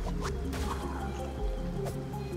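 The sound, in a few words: items dropped into water in the video game Tunic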